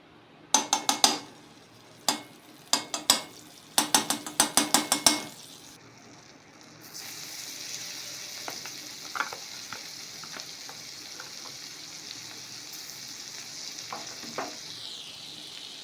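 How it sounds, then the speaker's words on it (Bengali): Vegetables going into butter in a pan, with a run of sharp clattering utensil clinks and knocks at first, then a steady close sizzle of frying with occasional light taps. "এইবার আমি বাটার দিয়ে সবজিগুলো ভেজে নেব"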